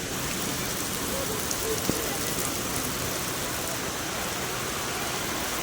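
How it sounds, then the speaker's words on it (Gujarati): Heavy rain pours outside during strong wind at a hill stay near Mount Abu, a soft, even, continuous hiss of falling water heard from indoors at a moderate distance. "અત્યારે બહાર વરસાદ બહુ ચાલુ છે"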